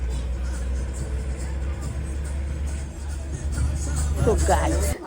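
A car engine rumbles low as the vehicle draws closer, with voices talking over it near the end.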